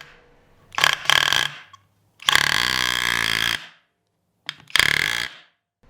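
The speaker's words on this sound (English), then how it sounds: "you press down really hard on the nail to activate it" Skil 12V cordless auto hammer pressed onto a nail driving it into wood, three loud bursts of rapid buzzing impacts, the middle one longest, separated by brief silences.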